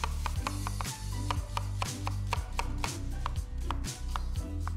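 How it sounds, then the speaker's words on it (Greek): A knife finely chops onion and garlic on a cutting board, a fast, steady run of crisp, close taps with a few short pauses and no talking. "Στη μέση και ψιλοκόβουμε."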